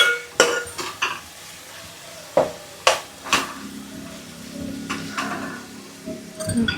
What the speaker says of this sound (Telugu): పచ్చిమిర్చి వేసి మంచిగా కొంచెం కలుపుకోవాలి ఫ్రై అయ్యే వరకు.